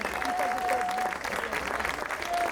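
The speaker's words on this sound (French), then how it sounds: "je voudrais qu'on l'applaudisse très fort" An audience applauds steadily throughout, with a dense wash of clapping from a crowd at a live show in an arena setting and a faint tone drifting above it.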